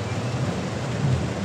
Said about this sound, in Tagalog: Kasi walang tigil ang ulan.